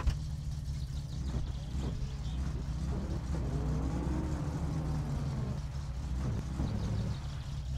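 A car engine drones steadily in My Summer Car, rising and falling in pitch as the car drives and accelerates, a continuous close hum with faint bumps.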